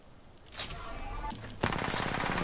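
Charge rifle fired in an online shooter game, a sharp building crackle followed by a loud burst of fire, brief and close.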